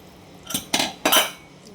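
Three sharp metallic clanks in quick succession as a pressure cooker of prawn masala is opened, the heavy lid and utensils knocking against the metal pot, close and fairly loud.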